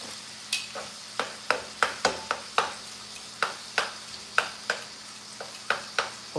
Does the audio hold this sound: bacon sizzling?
yes